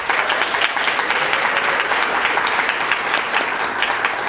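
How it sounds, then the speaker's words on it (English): A graduation and awards ceremony audience applauds psychiatry residents with dense, steady clapping that holds at full strength for the whole stretch, loud and close, with no voices over it. "So maybe give them a round of applause."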